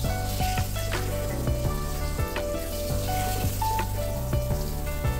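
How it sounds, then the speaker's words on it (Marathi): Fish frying in hot oil in a home kitchen pan, a steady loud sizzle with sharp clicks and scrapes as a spatula flips the pieces, no voices. "आता हे फिश झालेलं आहे. आपण पलटून घेऊया."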